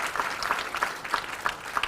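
A studio audience gives quiz contestants a brief round of applause, a short, steady patter of claps at moderate distance with no talking.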